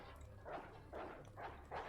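Dogs barking as enemies in the video game Resident Evil 2, during Claire's scenario; four rhythmic bursts of barking or growling spaced about half a second apart, moderately loud over a low game ambience.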